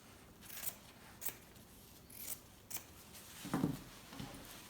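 Wire cutters snip a zipper off a lab jacket in a quiet room, giving several faint, sharp clicks spaced about half a second apart, with one slightly louder cut near the end.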